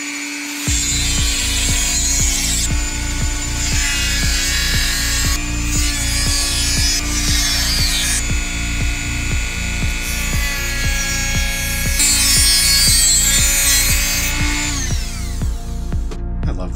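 A Dremel rotary tool cuts through material with a loud, steady high-pitched whine, broken by brief dips and rises in pitch as it bites, running almost continuously.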